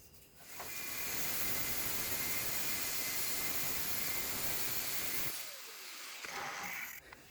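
Scrap cutlery metal being cut in a round cut while a deer stag sculpture is made, a loud steady grinding hiss running for about five seconds before it cuts out, then a short burst returns near the end.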